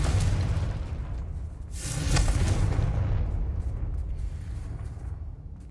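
Confringo blasting spell from Hogwarts Legacy erupts in a loud, deep explosion that swells around the two-second mark and then rolls on in a long rumbling decay.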